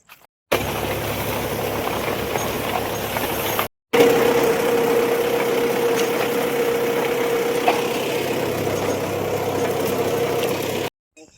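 A tractor engine idles with a steady, droning hum nearby in Mandvi, cutting out briefly once before resuming at an even, unchanging level.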